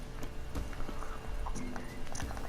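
Roach, the horse in The Witcher 3, clip-clops along in an uneven run of hoof strikes, moderately close, over soft game ambience.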